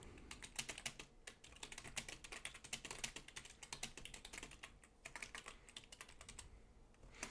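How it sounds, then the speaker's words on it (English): A computer keyboard is typed on quickly and continuously for several seconds, a dense stream of crisp close key clicks with only brief pauses, quiet and without speech. "I'll just type it in"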